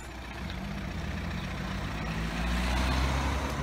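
A VW T5 van pulls up with a steady low engine rumble that swells slightly as it nears and settles to an idle, with no talking.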